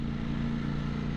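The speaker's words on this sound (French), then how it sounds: "ça me permet de tester la moto en interfile" A 2020 Ducati Streetfighter V4 motorcycle splits lanes through urban traffic with a low, steady engine hum and a faint clatter. It is close and continuous, with no talk.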